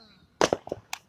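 Fireworks going off outdoors at night: a quick burst of sharp, crackling bangs, then a few softer pops and one last crack, moderately loud against a quiet background.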